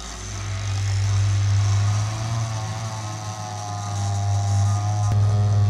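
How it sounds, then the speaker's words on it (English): The water-cooling pump of a cheap custom PC loop runs with a steady, loud low hum and buzz, rising and falling slightly in strength, with a brief click near the end. "so that noise you're hearing is actually the pump"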